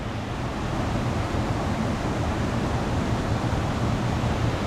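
A steady, dense rush of falling water roars continuously with no breaks, broad and noisy like a nearby canyon waterfall.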